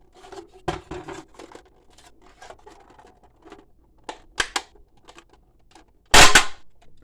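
Plastic Hot Wheels playset buildings being pulled apart, sharp scattered clicks and creaks building to a couple of loud snapping cracks, the last one the biggest, with no speech.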